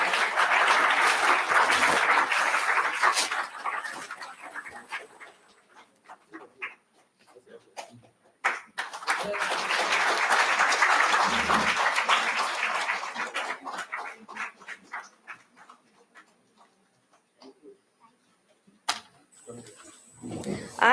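Conference audience claps in two long bursts of dense, full-room applause separated by a quieter gap with scattered thumps and handling noises, ending with a brief sharp clatter.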